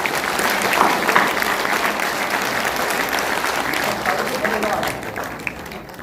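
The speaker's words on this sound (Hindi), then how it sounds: "क्या एक बार जोरदार ताली बजा सकते हैं?" Loud, sustained applause from a large audience at an association's Dr. B.R. Ambedkar birth anniversary celebration, steady clapping filling the hall for about six seconds before easing slightly near the end.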